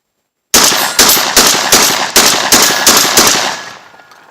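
A Beretta 1301 Tactical shotgun fires Winchester Universal shells in a rapid string of about eight loud, close blasts at an even pace, and the last shot rings out and fades.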